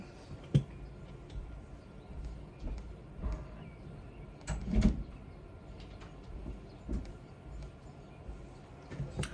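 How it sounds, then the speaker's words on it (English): A door opens indoors: faint scattered clicks and a sharper latch-like knock midway sit over a low, steady room rumble, with no talk. "My door opened."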